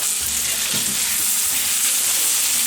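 Shrimp with chermoula frying in a pan for a fish pastilla, a loud continuous sizzle close up with a few scraping stirs of a utensil.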